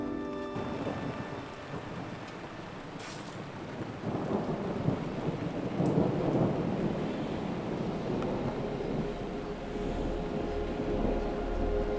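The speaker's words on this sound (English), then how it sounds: "Storm coming?" An approaching storm brings steady rain and low, rolling thunder that swells and grumbles through the whole stretch, with gusts buffeting the microphone.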